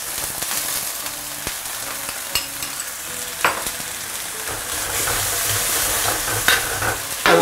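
Water and a mixed sauce are poured into a hot pan for a home-style Chinese dish, giving a loud, steady sizzle and bubbling with occasional clinks and scrapes of a utensil, close up and without speech.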